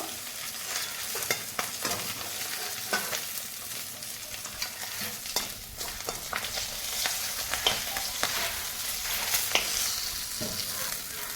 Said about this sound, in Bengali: মাছের মাথাগুলো কড়া করে ভাজা হয়ে গেছে